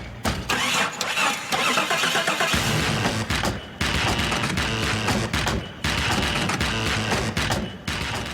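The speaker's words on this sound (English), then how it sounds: "has created a techno track using nothing but the sounds created by this Jeep" Electronic techno track built entirely from sampled sounds of a Jeep: loud, dense rhythmic layers of engine-like revving, clunks and percussive hits, with brief dropouts between sections.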